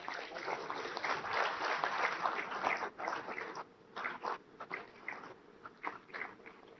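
Steady applause from a crowd welcoming the Indian Prime Minister at a Ro-Pax ferry terminal inauguration in Hazira, a dense continuous patter of clapping that fades into scattered, thinner claps toward the end.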